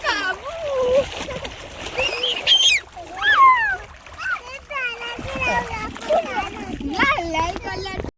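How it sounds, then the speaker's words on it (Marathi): Swimmers splashing in a village river at Tondavali near Malvan, with irregular nearby water slaps and splatters mixed with children's and adults' voices talking and calling throughout, and birds chirping faintly in the background. "मस्तपैकी आम्ही नदीमध्ये पोहतोय एन्जॉय करतोय गावच्या नदीमध्ये"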